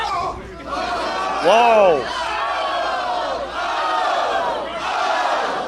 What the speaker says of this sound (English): the crowd's going fucking insane